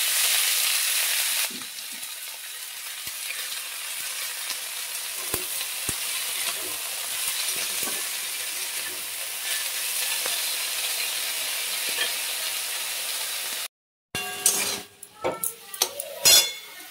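Fenugreek greens (methi saag) sizzle and hiss in a pan with faint stirring for most of the stretch. A brief silence gives way to sharp clatters of utensil against pan, close and without talk.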